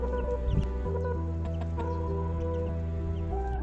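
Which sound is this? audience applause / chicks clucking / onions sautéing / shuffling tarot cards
chicks clucking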